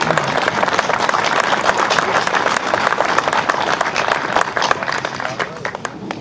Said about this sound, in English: Please stand for an applause.